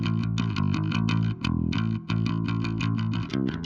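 A bass guitar plays a repeating low line with reverb and a slightly distorted tone, notes sustaining into brief gaps, with no voices.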